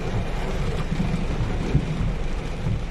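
Heavy rain pours down during a thunderstorm, a dense, continuous hissing roar that stays steady and loud throughout, with no voices.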